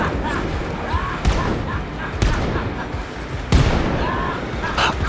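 Single-shot gunfire in Wolfenstein: Youngblood, three or four sharp, separate shots spaced about a second apart, loud and near, with game noise and some speech mixed in.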